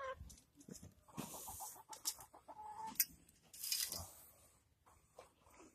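Chickens cluck in short, irregular bursts close by, with scratchy rustling and a few louder squawks mixed in.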